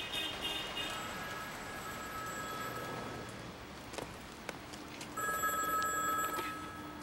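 A telephone bell rings in short repeated bursts, fairly faint over a steady background hum, with a pause in the middle before the ringing resumes louder near the end.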